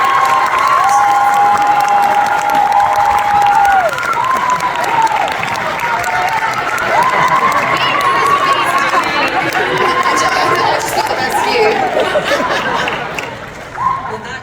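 A convention panel audience for the Baldur's Gate 3 cast at Kawaii Kon fills the room with loud, sustained applause and cheering, plus shouts and chatter throughout, fading slightly at the end.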